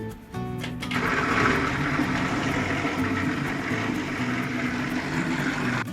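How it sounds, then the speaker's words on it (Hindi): An electric grinder runs continuously, finely grinding chopped eggplant mixture for eggplant balls, a steady loud whirring drone after a brief start-up, with no talking. "हम इसमें डालेंगे ताकि इसको अच्छी तरह से हम ग्राइंड करके बारीक बारीक पीस लें"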